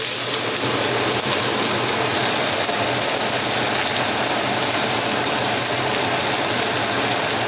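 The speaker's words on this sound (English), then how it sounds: "Let me turn the fan on." A kitchen exhaust fan runs near and steady, a constant broadband whoosh with a low hum underneath that holds unchanged throughout, no talking.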